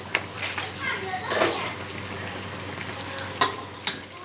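Tilapia being stir-fried with oyster sauce and dried chilli in a hot pan, a steady sizzle with a few sharp clatters of the spatula near the end, close and moderately loud.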